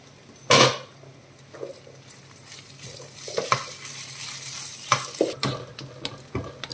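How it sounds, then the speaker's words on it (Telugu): Mutton keema with garlic frying on low heat in a pan, a continuous sizzle broken by sharp metallic clanks and scrapes of a spoon stirring against the pan, close and loud. "సిమ్లో పెట్టుకొని బాగా ఫ్రై చేసుకోవాలండి"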